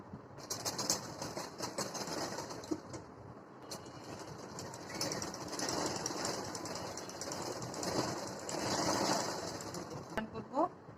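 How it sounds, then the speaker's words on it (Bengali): A sewing machine stitches a garment's shoulder joint at a tailoring table, running in bursts of close, busy mechanical whirring with brief pauses. "এবার আমরা সেলাই দিয়ে নেব"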